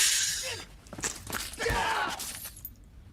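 Glass smashing over a head during a martial-arts film fight scene, a bright crash amid impact hits and grunts, loud and close with fight noise around it.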